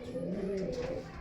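A pair of king pigeons coo softly in a brief, low, throaty burble, close by and alone.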